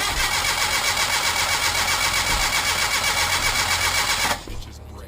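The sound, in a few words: Geo Metro car engine starting up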